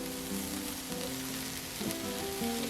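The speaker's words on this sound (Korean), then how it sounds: "다이어트 반찬이니까 물로 볶아줍니다. 양파 먼저 볶아주고 새송이버섯 볶아주고" Onion and king oyster mushrooms stir-fry in water in a pan, a steady, soft hiss and bubbling sizzle with a faint hum beneath, and no voices.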